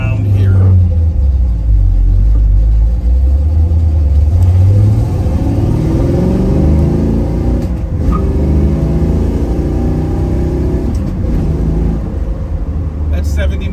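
A 1967 Pontiac Firebird engine pulls hard on the road, a loud steady rumble rising in pitch through the gears with a shift partway, close and continuous inside the car.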